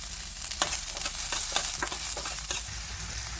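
Onion frying in hot oil in a home kitchen, a dense hissing sizzle broken by quick scraping strokes of a spoon against the pan.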